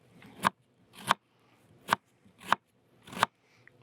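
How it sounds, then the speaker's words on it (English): A sharp Pampered Chef knife slices through onions on a cutting board in five crisp, evenly spaced crunching cuts, close and clear with no talking. "first thing we're gonna do is we're gonna cut some onions up"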